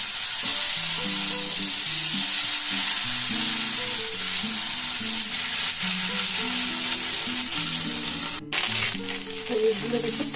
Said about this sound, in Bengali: এইগুলোকে আমি একদম মিডিয়াম ফ্লেমে এই পনিরগুলোকে সব ভেজে নেব